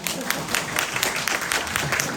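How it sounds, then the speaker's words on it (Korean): A short round of clapping from the congregation at a Catholic church prayer meeting, soft and somewhat distant, with a few voices underneath. "박수 한번."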